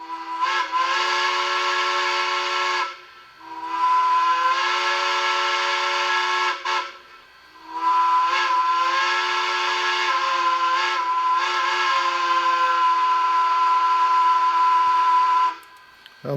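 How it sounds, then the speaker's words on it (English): Model Bachmann PRR K4 4-6-2 steam locomotive with TCS WowSound sounds its grade crossing quill whistle: a long-long-short-long pattern of sustained chime blasts, loud and close, with brief gaps between them and no talking. "you got grade crossing quill on F0"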